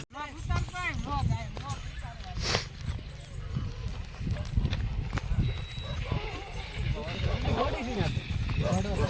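A ridden mare's hooves clip-clop steadily through the whole stretch, close by, half-buried under loud, continuous voices talking and calling.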